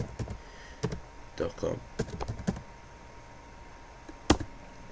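Keys on a computer keyboard clatter in short, close taps, scattered and irregular, with a louder clack near the end; a voice speaks briefly between the keystrokes.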